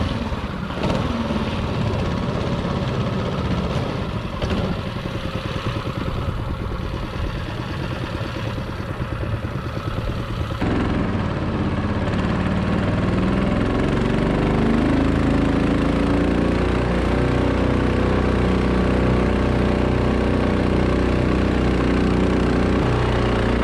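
A brand new outboard boat motor running steadily on the water, a continuous loud engine drone that shifts to a lower, rougher tone partway through, with no talking.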